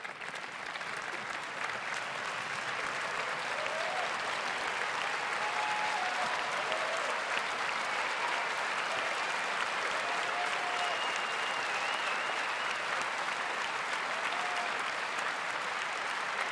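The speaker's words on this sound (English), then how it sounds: "Please stand up. I am applauding you." Sustained, even applause from a large audience at an Apple event in September 2015 keeps a steady dense clatter of clapping throughout, heard from a distance with no talk over it.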